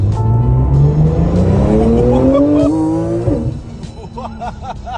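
A carbon-bodied tuned Porsche sports car drives past loudly, its engine rising in pitch through the gears, then fading as it moves off with a faint tire squeal.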